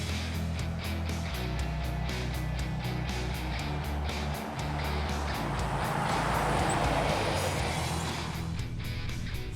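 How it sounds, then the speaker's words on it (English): A 1988 Isuzu Trooper 4x4 driving along, giving a steady, continuous engine and road drone that holds at an even level throughout. "the Trooper feels fine driving around, but boy, it does not have enough power to really accelerate fast"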